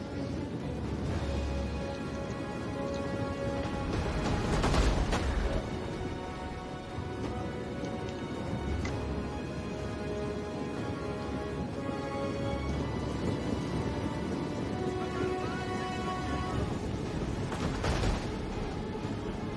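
Siege catapults firing flammable rounds in a Rome 2 Total War battle give dull, booming launches and impacts at intervals, set against a constant rain-like hiss of battlefield din.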